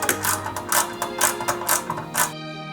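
Small screws are driven by hand into the body of a model Ford Gran Torino kit, producing a series of quick ratcheting clicks in regular bursts, close and crisp, with no talking.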